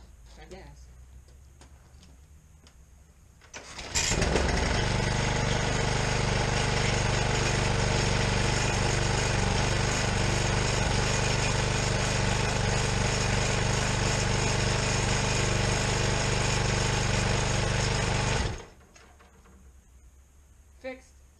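A John Deere JS40 lawn mower engine with a new carburetor starts near four seconds and runs loud and steady for about fourteen seconds before cutting off, with quieter moments before and after.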